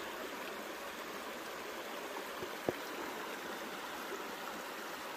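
Creek water rushes steadily as blonde sand is rinsed from a gold pan in a Pennsylvania creek, a soft continuous wash with one faint knock midway.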